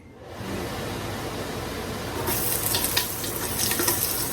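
Steady broadband rushing of a kitchen vent fan over the stove while cooking chicken adobo fills the clip, with a brighter hiss building in the second half.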